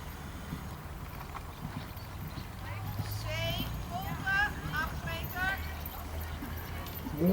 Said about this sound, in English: Now we get the extended canter.